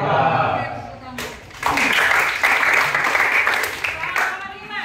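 A class breaks into applause: dense, lively clapping starts abruptly, holds strong for a few seconds and then tapers off, with voices before and after.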